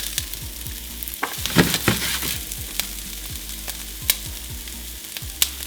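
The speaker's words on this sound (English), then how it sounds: "Listen to that sizzle." Oil sizzles and crackles steadily as peppers and onions fry in a pan, with occasional sharp pops and stirring scrapes, close and fairly loud.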